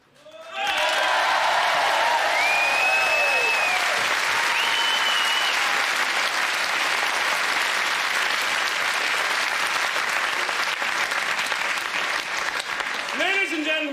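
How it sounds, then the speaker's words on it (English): Thunderous applause from a theatre audience at a 1986 live comedy show, starting abruptly and holding loud and steady for many seconds, with a few whoops and whistles near the start. "And into my mouth to your thunderous and spontaneous applause."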